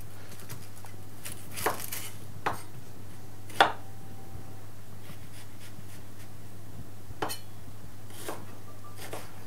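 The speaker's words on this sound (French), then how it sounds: "on va commencer par émincer l'oignon" An onion being sliced with a knife on a board, a handful of sparse, crisp chopping knocks spaced a second or two apart over a low steady hum.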